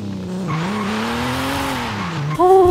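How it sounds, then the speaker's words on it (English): A revving Nissan 370Z NISMO V6 engine in Forza Horizon 5 roars steadily, pitch rising and falling with the throttle, then jumps sharply louder near the end as it revs hard. "So this car is famous for its engine, its V6 engine. Check out the sound of this car."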